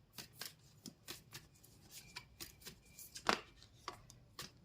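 Tarot cards are shuffled by hand during a reading to draw one more card: quick, crisp riffles and soft slaps in an irregular rhythm, close and fairly quiet, with no talking.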